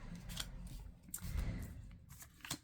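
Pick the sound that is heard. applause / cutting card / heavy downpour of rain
cutting card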